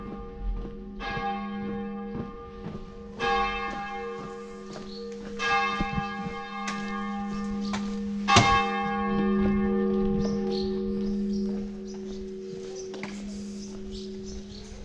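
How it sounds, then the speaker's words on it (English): Church bells ring out in a Catalan village, a steady series of loud tolls with long ringing overtones that overlap and sustain for about fifteen seconds, heard from nearby in open air with no talking. "we've arrived at 11 on the dot, and the church bells are ringing, sounding my glorious arrival."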